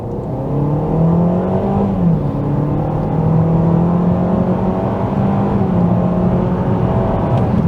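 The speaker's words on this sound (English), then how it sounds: "that's where you notice the petrol engine kicking in" Petrol engine of a Honda ZR-V e:HEV hybrid SUV kicking in under hard acceleration, a steady rising engine drone heard from inside the cabin, loud and continuous, no talking.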